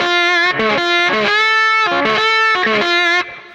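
Lap steel guitar in open D tuning played through distortion, sustained scale-tone notes sliding between pitches with a thick, buzzing overdriven tone, loud and alone.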